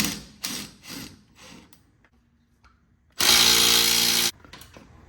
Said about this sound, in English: take these 2 15mm bolts out that hold the support bracket to the frame